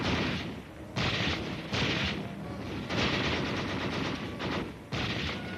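Korean War street fighting in a city: bursts of machine-gun and rifle fire mixed with artillery booms, repeated in dense volleys at moderate distance.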